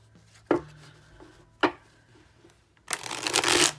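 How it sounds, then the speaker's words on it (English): A couple of sharp taps of a deck on a surface, then a quick, close riffle of cards being shuffled. "They ought to shuffle really nicely."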